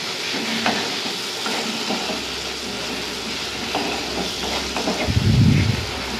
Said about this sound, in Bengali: ভালো করে কষাতে হবে এটিকে।